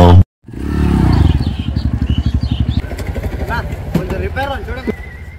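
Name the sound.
motorcycle engine in a garage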